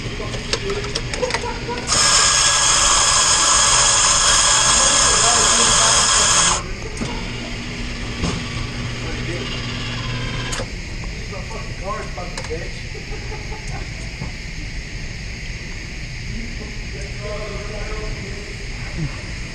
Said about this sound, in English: now we're gonna press A and we're gonna make an espresso shot.